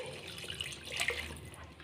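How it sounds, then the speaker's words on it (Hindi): A cup of hot water poured into a simmering fish curry gives a soft, steady splashing trickle for under two seconds, faint and close with no voices. "इस टाइम पर हम इसमें 1 कप पानी डाल रहे हैं।"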